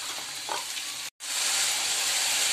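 Vegetables for Gujarati undhiyu, including banana and potato, hiss and sizzle loudly in hot oil as they are tipped into the pan, a steady close frying sound broken by one brief pause.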